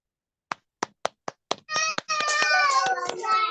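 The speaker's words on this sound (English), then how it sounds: "let's give a shout out and a round of applause to Miss Ayomide Miracle Oyelade" A few separate hand claps from a small group at a workshop, honouring Miss Ayomide Miracle Oyelade, quickly give way to cheering voices that swell and hold, close and fairly loud.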